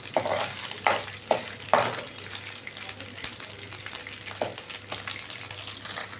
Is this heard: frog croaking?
no